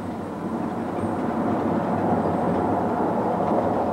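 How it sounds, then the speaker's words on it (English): A 1980s British Rail terminating train rolls through points as it crosses over to the right-hand track, a steady, close rumble of wheels and running gear with no voices. "But this terminating train crosses over to the right-hand track."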